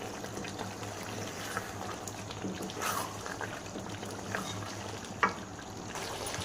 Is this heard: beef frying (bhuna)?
yes